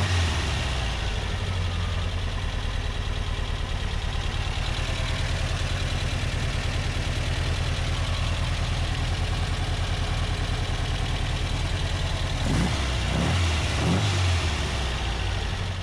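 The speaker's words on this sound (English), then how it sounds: "It just idles much better now." A Porsche 356 engine fitted with new Chinese carburetors idles steadily at close range, a low even rumble with a faint mechanical chatter, joined near the end by a few brief throttle blips.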